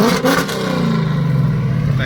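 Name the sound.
Ford Mustang engine revving without mufflers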